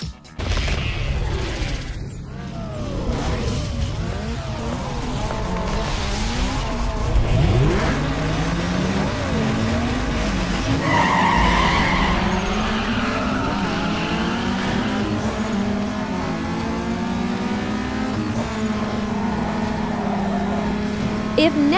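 Race car engine in the video game Need for Speed Underground 2, a Honda Civic, revving loudly through gear changes with sweeping pitch rises and falls, plus intermittent tire squeals and skids throughout.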